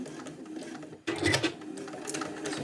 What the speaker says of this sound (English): go ahead and sew both of them at once